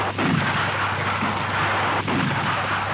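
Two heavy booming blasts about two seconds apart over a constant low hum, simulated artillery fire from a 1960s Saab gunfire simulator used in Swedish Army training, sounding at a distance.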